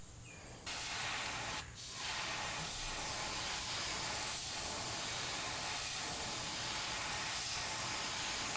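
An airbrush sprays paint at low air pressure onto a small micro fishing lure. A steady, close hiss runs nearly unbroken, with a brief pause early on and faint handling clicks beneath it.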